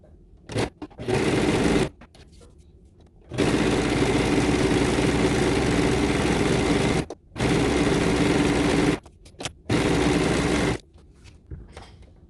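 An overlocker (serger) threaded with polyester maxi-lock and white woolly nylon thread stitches bikini fabric in loud, steady whirring bursts, several runs of a few seconds separated by short pauses and quiet gaps.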